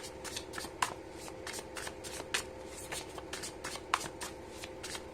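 Tarot cards being shuffled by hand, a steady run of soft riffling flicks and papery slaps with a few sharper snaps, close and fairly quiet, with no talking.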